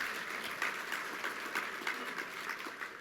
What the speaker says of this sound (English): Maureen, you're getting a lot of applause